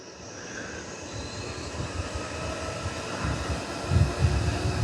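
Shark fan on its max setting, a rising, steady rush of airflow with a low rumbling whoosh heard up close and growing louder toward the end, with no talking.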